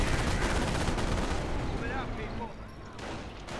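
Machine guns firing from towers at a V2 rocket base in the World War II strategy game Company of Heroes, with dense rattling bursts over a busy battle din that fades slightly toward the end.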